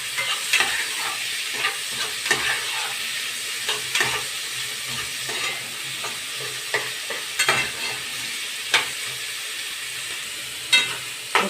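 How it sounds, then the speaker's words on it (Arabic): Onion, about four cloves of minced garlic and pepper sauté together in a pan, a loud steady sizzle punctuated by frequent scraping stirs and utensil taps, close up with no speech. "هنشوح كل ده مع بعض كده"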